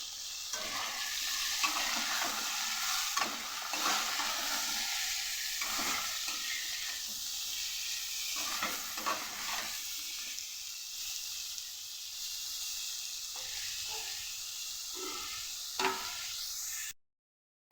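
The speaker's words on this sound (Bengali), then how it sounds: "একদিকে আলু পটল ভাজা হচ্ছে" Potato and pointed gourd slices frying in a pan, a steady close sizzle with scraping stirs and occasional knocks of the utensil, continuing without speech until it cuts off near the end.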